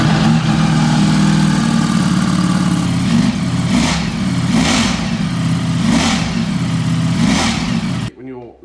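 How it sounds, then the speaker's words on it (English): Ducati Streetfighter V4S motorcycle with its standard factory exhaust, loud and close, holding a steady idle rumble with several sharp revs rising and falling, then cutting off abruptly near the end. "So this is the sound of the standard exhaust."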